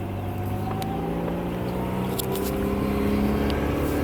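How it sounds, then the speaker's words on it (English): A lowered 1991 Honda Accord CB7 on newly fitted Yonaka coilovers drives along, its wheel rubbing under a steady engine and road drone that swells slightly toward the end, with no talk. "That's the wheel rubbing."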